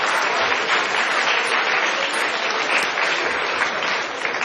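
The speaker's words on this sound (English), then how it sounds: "can you give him a round of applause?" Lecture-hall audience gives a sustained round of applause for a man in a shirt made of graph paper, a dense, steady roar of clapping hands holding at one level throughout.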